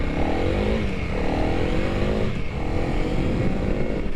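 A 2021 Honda CRF300L motorcycle accelerates hard with short gearing, its engine droning loud and steady, rising in pitch through repeated climbs as it shifts, heard close and continuous throughout.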